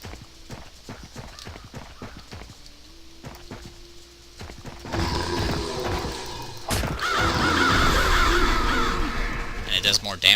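Summoned crows caw in the Bloodlust video game demo, harsh calls mixed with clip-clopping hooves and a rising wash of game noise and crashes.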